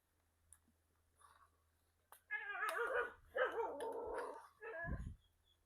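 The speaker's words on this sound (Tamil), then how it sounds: "எங்கட வீட்டு நாய் வந்து கத்தி கொண்டு நிக்குது" A house dog barks and growls in a string of loud, close yips and barks after a faint click or two, with quiet kitchen surroundings during cooking of odiyal kool.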